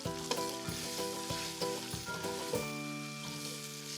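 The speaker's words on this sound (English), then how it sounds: "the onions and the carrots have started cooking" Onions and carrots browning in a pot for a whiskey pot roast give a steady, close sizzle with occasional stirring clatter, heard under background music.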